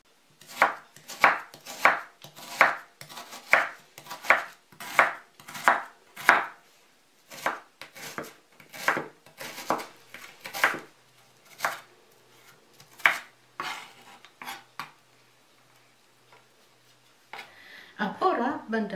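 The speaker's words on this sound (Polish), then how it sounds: "Cebulę pokroję w kostkę." A knife chops onion into small cubes on a board in a fast, steady run of crisp, evenly spaced strokes that slow and thin out toward the end, followed by a brief rustle as the pieces are gathered.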